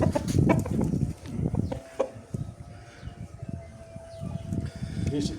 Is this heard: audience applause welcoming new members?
no